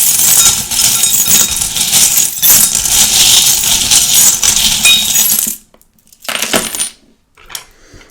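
Small metal charms are tipped into a heavy bowl for divination, giving a long, loud, dense jingling clatter close by for several seconds, then a few sparse clinks and rattles as they settle.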